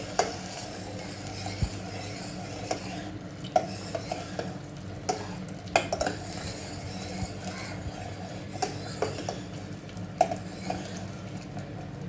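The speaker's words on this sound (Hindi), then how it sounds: "इसमें मैं अभी ये टमाटो प्यूरी डालती हूँ। टमाटर को भूनूंगी।" Tomato puree sautéing in cooking oil in a pan for a satvik lobiya curry, giving a steady close sizzle with occasional spoon stirs and light clinks against the pan throughout.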